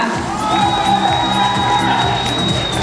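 Crowd cheering and whooping with applause for a drummer, announced with a band at a concert in Belovo; a loud, steady roar of voices with a sustained high shout running through it.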